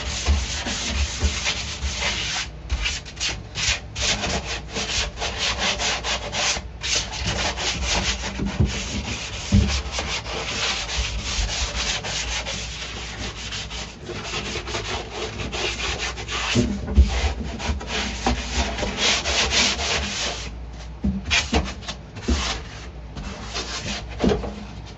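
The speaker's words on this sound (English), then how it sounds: "you're just gonna take some sandpaper, sand pad, whatever, and just scuff it up" A sanding pad scuffs the metal floor of a Jeep Wrangler under restoration, a continuous loud rubbing scrape with uneven strokes and brief pauses, close and alone.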